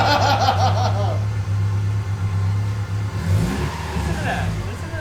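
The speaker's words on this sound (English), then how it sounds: "Listen to that intake there. That thing is sucking." A homemade rally car's engine revs hard with a loud, sucking intake roar, rising and falling up close while people talk and laugh over it.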